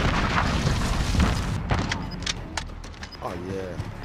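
Grenade blast in Call of Duty multiplayer (Headquarters mode, St. Petrograd map), a loud booming rumble followed by sharp crackling impacts, with a player talking over the noise.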